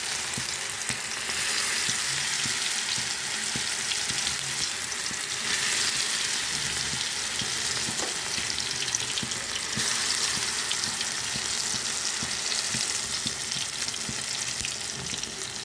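Small shrimp fritters, Bengali kucho chingri bora, sizzling in hot oil in a kadai, a continuous bright crackle and hiss that stays loud and steady throughout with occasional faint clinks.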